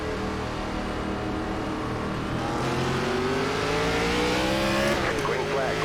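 A NASCAR stock car in the iRacing video game spins its wheels on a restart, its engine revving steadily upward in a rising whine as the field accelerates, with tire squeal and voice chatter in the background.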